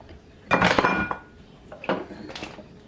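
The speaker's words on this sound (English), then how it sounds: "So then I grab a spoon right here." A spoon clatters against dishes while breading organic chicken drumsticks for the air fryer, two busy bursts of close clinks and scrapes in a kitchen.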